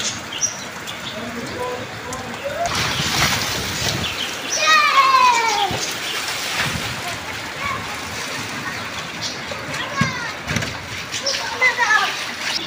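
Heavy rain pours onto a waterlogged yard with steady broadband hiss, while children play in the standing water, splashing it about. Birds chirp and people talk throughout.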